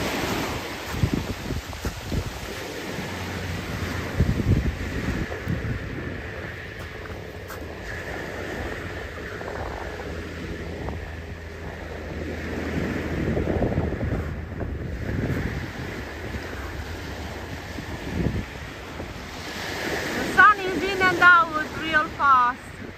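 Atlantic Ocean waves wash onto the shore in a continuous surf roar, with gusts of wind buffeting the microphone.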